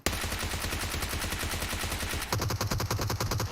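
Rapid automatic gunfire bursts in PUBG Mobile, dense and continuous, shifting to a sharper, louder rhythm of shots partway through, with no talk over it.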